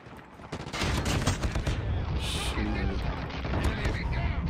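Shorty shotgun fire in Call of Duty Mobile: sharp, repeated blasts in quick succession over a dense, noisy game backdrop, with someone talking through the shots.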